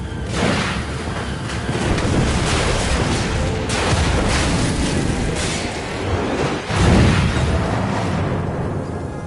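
Artillery fire in Assassin's Creed Rogue remaster: a dense, continuous barrage of loud booms and rumbling blasts layered over one another, with a heavier close impact near the end.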